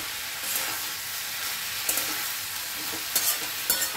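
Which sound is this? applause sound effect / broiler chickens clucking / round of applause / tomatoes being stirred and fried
tomatoes being stirred and fried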